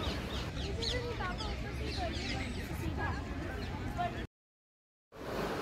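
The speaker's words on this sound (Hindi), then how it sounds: "आप भी ये पक्षियों की आवाज़ सुन रहे होंगे मेरे साथ देखिए कितनी खूबसूरत आवाज़ आ रही है" Birds sing and chirp among the trees of Nishat Garden, a Mughal garden in Kashmir, a dense outdoor chorus of many overlapping calls that runs steadily, breaks off into a short silence, then resumes.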